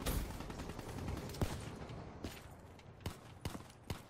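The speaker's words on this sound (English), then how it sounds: "someone shooting at me" Gunfire in Black Ops 3, with a dense volley of shots early on and then several sharp, separate reports spaced through the rest, loud and close, with no talking.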